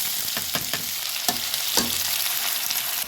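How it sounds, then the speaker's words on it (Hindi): Onions fry in oil with whole spices for a dal makhani, making a continuous loud sizzle broken by several sharp scraping clicks of stirring. "तो प्याज को हमें अच्छे से ब्राउन होने देना है।"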